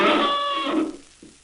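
A person imitates a cow with one loud, drawn-out, strained moo that fades after about a second, followed by a faint short sound.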